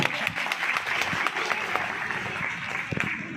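A crowd at a hostel day ceremony in Kanker breaks into loud, vigorous applause, the steady clapping of many hands filling the hall for a few seconds.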